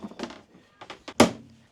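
A cupboard door with a magnetic latch swings shut aboard an aluminum catamaran under refit, ending in one sharp close thunk after a few softer knocks and rattles of handling.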